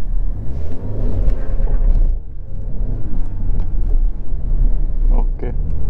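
A Ford car accelerating hard at full throttle, with a loud, steady engine rumble and road noise running throughout, briefly easing around two seconds before surging again; a voice speaks faintly beneath it.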